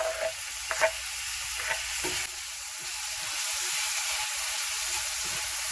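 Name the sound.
tomato added to a frying pan, sizzling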